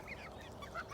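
Geese honk briefly in a quick burst of nasal calls, faint and somewhat distant, over low background noise.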